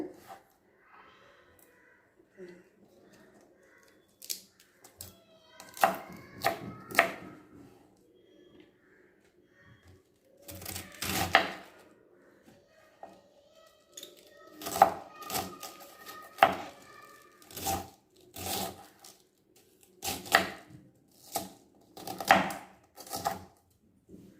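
Knife chopping Chinese cabbage on a board for a pickle, coming as irregular bursts of sharp close cuts with short pauses between them, and no talking.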